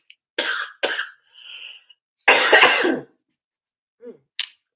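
Several coughs, close and loud: two short harsh bursts, a faint rough sound, then a longer heavy hacking cough, followed by a couple of quieter sharp noises.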